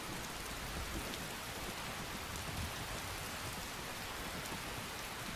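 Steady rain pours down in the video game Skyrim, a dense, even hiss of drops spattering on surfaces, with low rumbling undertones running throughout and no talk.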